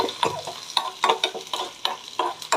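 Chili and ginger sizzle in hot oil in a pan while a utensil stirs them, a steady frying hiss broken by repeated scraping strokes about every half second, close and alone.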